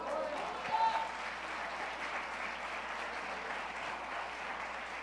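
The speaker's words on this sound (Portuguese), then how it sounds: "Aplauda Jesus!" A church congregation applauds during a celebration service, a faint, distant and steady spread of clapping with some voices underneath.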